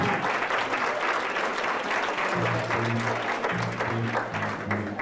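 A school band pops concert audience claps in a broad, dense wash of applause that fills the hall, while low sustained tones from the band sound beneath it.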